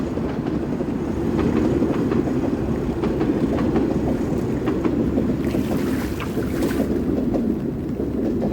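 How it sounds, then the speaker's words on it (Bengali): A train rumbles past steadily and loudly for several seconds beside a village fishing spot on a rainy day in Bangladesh, a continuous low roar with clattering and faint higher rattles, no voices. "দর্শক ট্রেন যাচ্ছে"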